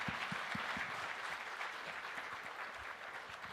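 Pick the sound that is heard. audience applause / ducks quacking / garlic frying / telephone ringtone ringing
audience applause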